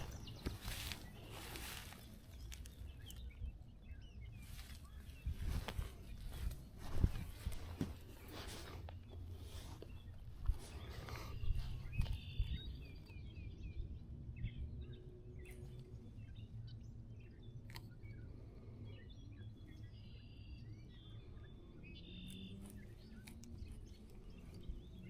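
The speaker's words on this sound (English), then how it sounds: "bird's making a lot of noise next to me here." A bird calls noisily close by at a fishing spot outdoors, with repeated chirps and tweets over low ambient rumble and scattered splashy patter, no talking.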